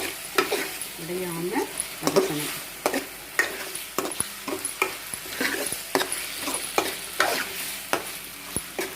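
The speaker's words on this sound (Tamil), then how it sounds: "சிக்கன் வெந்துருச்சு, அதனால் நம்ம என்ன பண்ணணும்னா உடையாமல் வதக்கணும்" Chicken sukka with curry leaves is sautéed in a pan, a spoon scraping and stirring in a steady rhythm over a continuous close sizzle.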